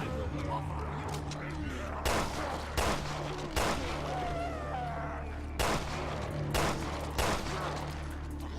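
Gunshots ring out in Resident Evil: Revelations 2, about six sharp separate bangs spaced a second or so apart over a low humming background.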